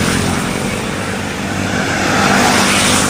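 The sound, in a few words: cars passing on a road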